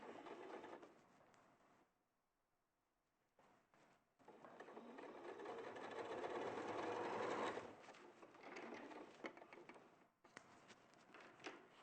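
Sewing machine straight stitching rick-rack trim along a fabric edge, a close whirring motor run that pauses briefly, then resumes and speeds up before easing off.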